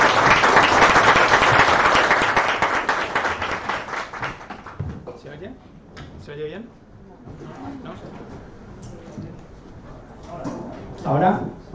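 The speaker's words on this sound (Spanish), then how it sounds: "damos un fuerte aplauso a Juan Pedro" A seminar audience gives loud, dense applause that fades away after about four seconds, followed by people talking in the room.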